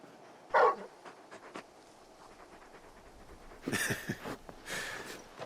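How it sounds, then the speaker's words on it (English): A big dog in the Final Fantasy 16 video game pants and gives a short yelp, then breathes in quick soft huffs, faint and close against a quiet game background. "You're just a big puppy, aren't you? A very big puppy."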